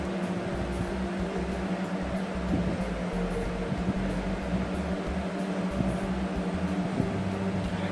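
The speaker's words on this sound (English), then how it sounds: "sorry about that freaking fan." A room fan runs continuously, giving a steady, even whir with a low hum underneath. It stays at a constant moderate level throughout, with no speech over it.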